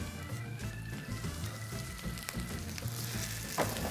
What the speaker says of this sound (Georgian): ჩავალაგოთ უკვე თევზის ფილეც ტაფაში.